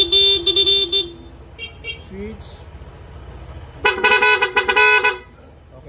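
Two loud bursts of a PIA dual-tone horn on a Honda ADV160 scooter, one near the start and one near the end, with brief talk and clicking in between.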